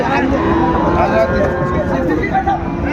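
Sahiwal bull calves at the Raniganj cattle market in Dinajpur low amid a busy hubbub, with people talking throughout and a steady crowd murmur underneath.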